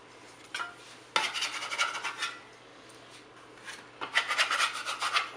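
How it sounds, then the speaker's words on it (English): Squares of buttermilk biscuit dough set down on a sheet pan: soft scraping and rubbing against the metal come in two close bursts with a quiet gap between them, and no talk. "we're going to take our squares and we're going to put them on a sheet pan, spaced out a little bit so they have room to rise"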